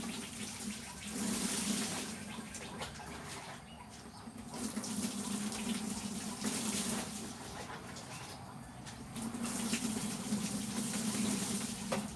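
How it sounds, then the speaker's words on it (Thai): Tap water running steadily over the roots of a variegated yellow elephant ear Alocasia being washed clean after division, a continuous splashing hiss that swells and dips, close, with no talk. "เดี๋ยวผม ขออนุญาตเอาไปล้างลากก่อนนะครับ จะได้เห็นชัด ๆนะครับ"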